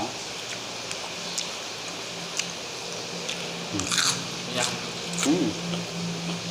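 Rain falls steadily as a constant soft hiss while people talk and chew, eating grilled fish and a large glass-noodle sausage outdoors. Occasional crunching bites stand out from the wash.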